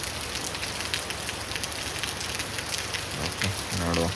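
Downpour in Udupi drums steadily on nearby surfaces as a thick, even wash of noise, joined near the end by a brief, buzzing tonal sound over the rain.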